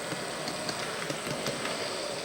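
Steady low rumble of a V/Line VLocity model train running smoothly along model track, nearby and continuous, with faint soft clicks scattered through it and no talking.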